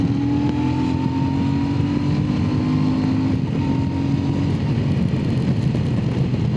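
A Royal Enfield Super Meteor 650 cruiser motorcycle hums along at a steady cruise, its engine drone droning evenly under wind noise, loud and constant.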